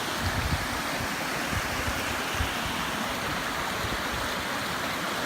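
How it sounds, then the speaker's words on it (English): A stream flows downhill along a trail on Mt. Diablo, a steady, close rush and babble of water that fills the whole clip with no pauses and no voices. "It's like a stream flowing downhill."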